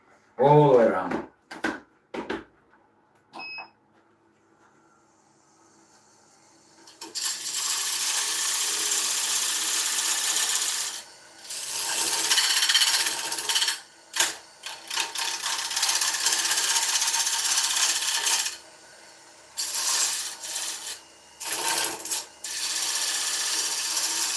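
Carbide cutter shaving the rim of an oak bowl on a lathe, a sustained hissing, rasping cut that stops and restarts several times, loud and close, after a brief spell of talk at the start.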